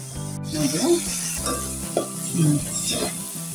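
Masala is stir-fried in oil in a pan for a spicy Maharashtrian katachi amti, with continuous sizzling under repeated spoon stirs and scrapes in a close, busy rhythm.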